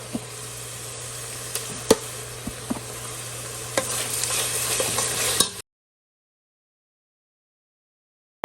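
Curry spices, including cardamom, cinnamon, cloves and cumin, are stirred and fried in a pan with sharp scraping clicks over a low sizzle for about five seconds before the sound cuts to silence.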